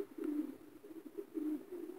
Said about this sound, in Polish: tutaj mam taką parę wspaniałych gołębi